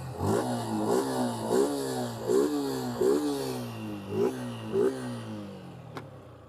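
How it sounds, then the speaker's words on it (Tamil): A 2025 Suzuki Gixxer SF 150cc motorcycle engine revs repeatedly up and down, its exhaust note rising and falling in about eight close, loud blips before cutting off. "இந்த இன்ஜினோட எக்ஸாஸ்ட் நோட் எப்படி இருக்குன்னு நீங்கள் கேளுங்க"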